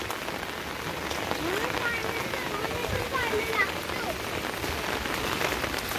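Heavy rain pours down steadily outdoors on a wet road, a dense close hiss of drops on surfaces that carries through the whole stretch, with faint voices underneath.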